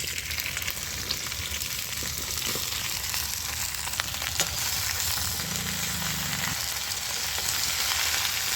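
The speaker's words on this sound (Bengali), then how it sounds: "এবার আমি ভেন্ডিটা ভেজে নিচ্ছি।" Okra frying in hot mustard oil, an even, dense sizzle that holds steady throughout with small crackles and no voices.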